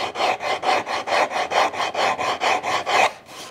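An ultra fine rasp files a wooden edge in about fourteen rapid, even back-and-forth strokes, each a loud close scraping rasp, ending with a brief quieter pause.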